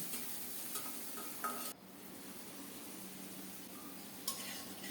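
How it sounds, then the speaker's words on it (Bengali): Two medium chopped onions frying in a little hot oil while being stirred, a quiet steady sizzle with occasional spoon scrapes and light clinks against the pan, close but soft. "তেল গরম হলে দুইটা মাঝারি সাইজের পেঁয়াজ কুচানো দিলাম পেঁয়াজটাকে নেড়ে চেড়ে একটু লালচে করে ভেজে নেব"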